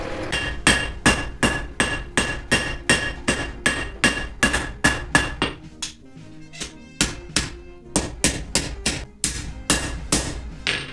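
Knife blade hammered at the forge: a rapid, steady series of sharp ringing metal-on-metal blows, about two per second, briefly pausing midway before the rhythmic strikes resume, close and loud.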